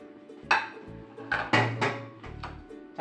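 Ceramic plates knock and clatter against each other as one is lifted out in a home kitchen, several sharp clinks with a low hum underneath.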